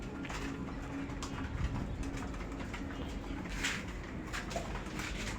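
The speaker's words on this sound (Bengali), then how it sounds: "দেখেন আমার কবুতর আল্লাহর রহমতে কীভাবে খাওয়া দাওয়া করতেছে।" Pet pigeons coo softly while pecking at mixed feed, a steady low murmur of cooing and light pecking at close range, with no voices over it.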